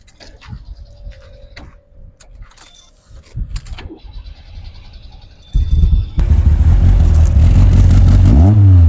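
A race car is started: first light clicks, ticks and clatter with faint voices, then the engine fires suddenly and runs loud and close, rumbling and revving through its exhaust to the end.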